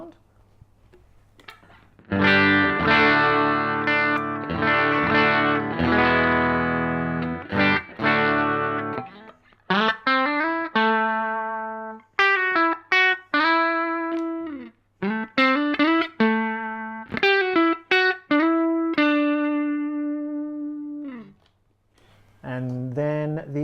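Clean-channel electric guitar from a Mesa Transatlantic amp played through an open-back cabinet: a quiet start, then ringing strummed chords followed by a sequence of picked notes and short melodic phrases with gaps, bright and close.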